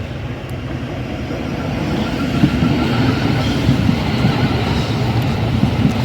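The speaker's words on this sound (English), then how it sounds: "there's a Thameslink train coming in" A Thameslink train pulls into Ifield Station on a curve as a broad, steady rumble that grows gradually louder, with some outdoor wind noise.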